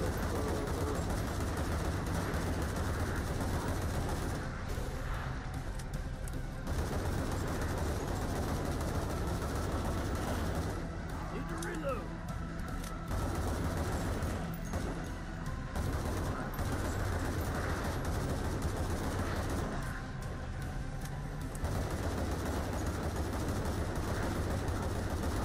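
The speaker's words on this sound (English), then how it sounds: "Come on, machine gun." Sustained video game gunfire from a machine gun, dense and continuous over a low rumbling engine-like drone, with brief lulls before the firing resumes, loud throughout.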